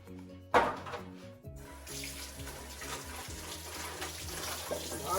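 Hands being washed under a running tap at a sink: steady close water flow splashing into the basin, with a brief clatter at the start and soft rubbing splashes as the stream continues.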